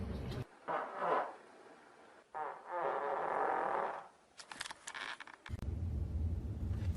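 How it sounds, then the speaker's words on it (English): Flatulence from a woman, several separate bursts of varying length with brief gaps between them, close to the microphone, with a low rumbling noise toward the end. "I need to fart really bad."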